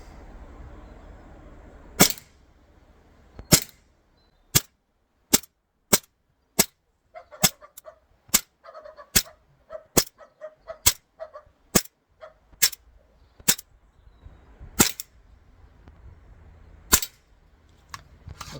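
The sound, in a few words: ASG CZ75 BB gun firing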